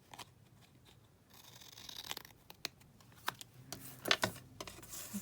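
Scissors snipping through paper at a desk, a quiet run of short crisp cuts that grows busier and louder toward the end, with faint rustling, no talking.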